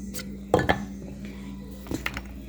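A glass mason jar in a home kitchen clinks in two quick pairs of light, close knocks, with quiet room tone between them and no talking.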